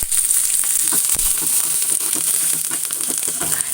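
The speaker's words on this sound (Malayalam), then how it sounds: "ഇനി നമുക്ക് അതിലേക്ക് ആവശ്യത്തിനുള്ള കറിവേപ്പില ഇട്ട് കൊടുക്കാം" Curry leaves hit hot oil in a pan for a Kerala-style winged bean thoran and give a loud, steady close-up sizzle and crackle, with a few faint stirring knocks underneath.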